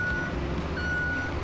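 A dump truck in the road-building game RoadCraft reverses while dumping sand, its steady reversing beeps sounding over a low rumbling engine, two clear beep tones in quick succession.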